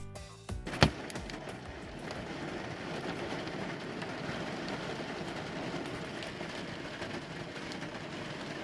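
Heavy rain pours down outdoors in a steady, dense hiss with no letup, opening with a brief sharp knock near the start.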